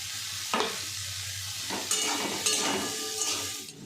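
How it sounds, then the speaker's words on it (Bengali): Steady sizzling of grated beetroot frying in a pan, with a few louder bursts of scraping and stirring breaking through the continuous hiss. "একটু ভাজা হলেই বিটগুলো, কুচানো বিটগুলো দিয়ে দেবো।"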